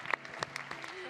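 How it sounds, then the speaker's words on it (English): Brief clapping from a tech startup conference audience, sparse and fading, with a voice briefly audible. "one more round of applause for Arkona"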